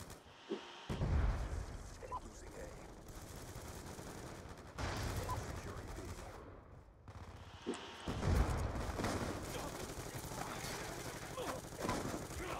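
Gunfire and a grenade explosion in a first-person shooter video game, with dense bursts of shots and blasts running almost continuously, loud and close, over a rumbling low end with brief lulls.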